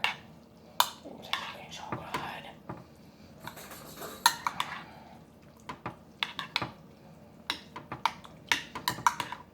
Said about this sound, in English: just take your spoon,